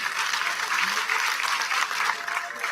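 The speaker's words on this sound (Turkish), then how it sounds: "Evet, alkışlar" A graduation ceremony crowd at a communication faculty claps steadily and densely throughout, a continuous wash of applause with no voices standing out.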